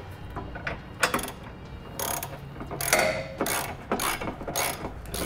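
A ratchet with an 11/16 socket and swivel tightens a trailer hitch bolt under a 2013 Subaru XV Crosstrek, producing repeated bursts of quick clicking, close and fairly loud, separated by short pauses.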